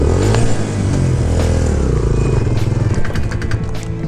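An off-road motorcycle engine revs and sputters on a rough, challenging track in the Margalla hills, its loud, uneven throttle bursts and clattering running continuously up close.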